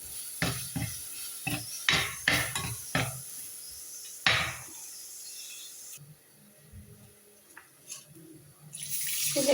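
Boiled water poured into a cooking pot for a Kerala-style lunch curry, a steady splashing pour after several short clinks of utensils, close and without talk.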